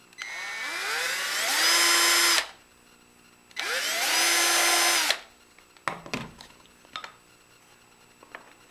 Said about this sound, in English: You have a mark, you can go ahead and drill them the rest of the way.